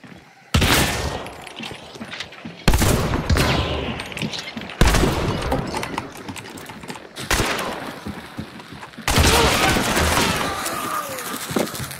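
Close, heavy shotgun blasts in Hunt: Showdown, four or five loud booming shots spaced about two seconds apart, each with a long reverberant tail, with brief voices underneath.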